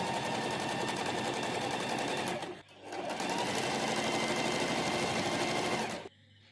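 A sewing machine stitches a collar neckline in a loud, rapid, continuous run. It pauses briefly partway through, then resumes and stops abruptly at the end.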